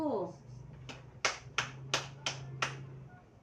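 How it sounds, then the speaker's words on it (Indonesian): Classroom claps for a student group: about six separate sharp claps spaced evenly at a slow, steady pace, heard fairly close, with a low steady hum underneath and a brief voice at the very start. "Mari kita tepuk tangan untuk kelompok 1."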